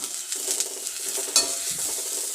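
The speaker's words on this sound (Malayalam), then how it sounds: "വെളിച്ചെണ്ണയൊന്നും ഒഴിക്കാതെ ഒന്ന് ഇത് വറക്കാൻ തുടങ്ങും" Grated coconut is dry-roasted in a pan without oil, with a soft crackle and repeated stirring scrapes, steady and close.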